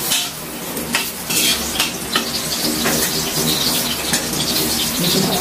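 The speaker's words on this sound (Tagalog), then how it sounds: "Nagisa po ako ng sibuyas bawang." Onion and garlic sautéing in a pan for pancit, a steady close sizzle with stirring and utensil scrapes running throughout.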